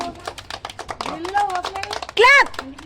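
Family members play a party game at a New Year celebration, with rapid, close hand claps in a quick rhythm and speech and excited voices in between.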